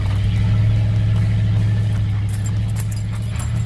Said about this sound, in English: we got to keep the foot in the gas a little bit more to keep the truck climbing up this little grade right here